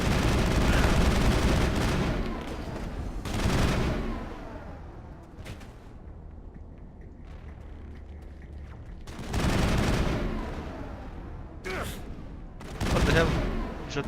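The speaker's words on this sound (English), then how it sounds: "He shot me through the rock." Sustained volleys of enemy gunfire in the sci-fi game Mass Effect come in several loud bursts separated by quieter gaps with faint shots and ambience, while a voice talks at times.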